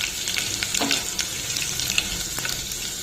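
Tempering seeds and crushed garlic cloves fry in oil with a close, dense sizzle, scattered crackles and a few soft stirring knocks, heard alone without voices.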